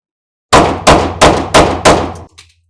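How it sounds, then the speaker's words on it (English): A handgun fitted with a combat shroud fires five loud, sharp shots in quick, even succession, each crack ringing briefly before the next, followed by a faint mechanical clunk. "And it continues to fire."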